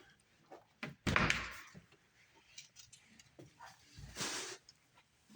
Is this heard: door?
yes